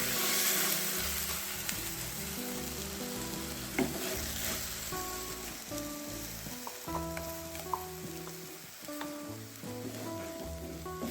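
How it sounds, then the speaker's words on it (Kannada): Ground masala paste sizzling and frying with tomato and onion in a pan for a Bangalore brinjal gravy, a steady loud crackle with scraping stirs and clinks throughout, no voices. "ಇದನ್ನು ಸ್ವಲ್ಪ ಫ್ರೈ ಮಾಡ್ಕೊಳ್ಳೋಣ"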